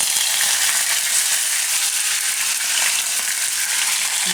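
Mustard seeds, cumin, garlic and curry leaves sizzle in hot oil on a low gas flame for Kathiyawadi vagharelo rotlo, a loud, steady, close crackling fry with no talking.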